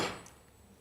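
A hammer gives a metal centre punch one light tap while marking a spot for drilling: a single sharp, close knock at the start that quickly rings down into quiet.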